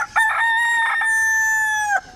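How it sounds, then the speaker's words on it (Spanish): A rooster crows loudly and close by in Cascais, Portugal, one long sustained cock-a-doodle-doo with a short broken start, standing alone. "A ver gallos."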